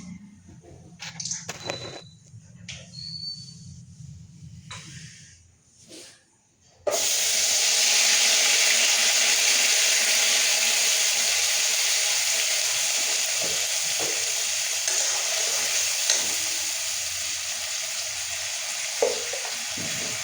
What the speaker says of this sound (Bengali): তারপরে ঢালছি আমি পেঁয়াজ, আদা, রসুন।